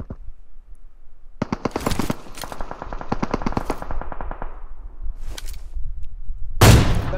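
Rapid automatic gunfire bursts in a battle royale video game, loud and close with echoing tails, a long volley followed by a short burst and a sharp final blast.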